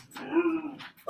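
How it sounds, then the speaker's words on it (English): A dog whimpers and growls close by in one drawn-out, whiny vocalization that tails off, followed by a brief noise at the end. "That's my dog."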